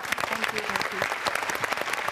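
An audience applauding to welcome a guest on a Marathi television comedy show, dense steady clapping throughout with voices mixed into the crowd noise.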